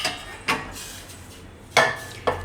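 Metal pot of hot water lifted off a gas stove, giving a few separate clanks and knocks of metal on the burner grate, spaced apart in a quiet kitchen.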